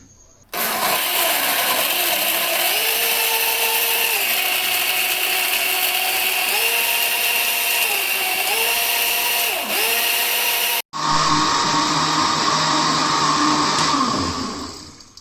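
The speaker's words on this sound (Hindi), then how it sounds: "ये क्रश की हुई बर्फ है, थोड़ी सी ऐड कर रही हूँ मैं। इसको अब हम ग्राइंड कर लेंगे।" Blender grinding an apple and banana milkshake with milk and crushed ice, a loud steady whir with shifting pitch as the load churns, a brief cut-out near the end, then a higher, harsher spin.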